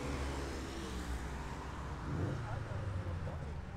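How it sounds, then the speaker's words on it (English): A Subaru STI pulls up at a Cars & Coffee meet with a low engine rumble and a brief rising rev partway through. Crowd chatter and talk run over it. "Smooth looking STI pulling up."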